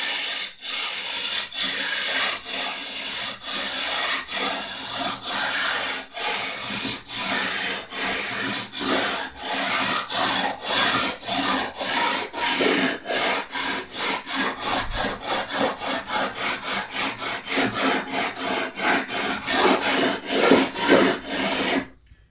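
Fret leveling on a Jazz Bass neck: a sanding block or file rasps back and forth over the metal frets in steady, rapid, rhythmic strokes, close and continuous for a long stretch with no talking.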